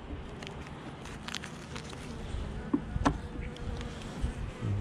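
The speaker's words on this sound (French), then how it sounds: "ça va être une toute petite boulette d'abeille" A small lost swarm of honey bees, a soft steady buzzing hum close by with occasional light crackles and knocks of handling, no voices.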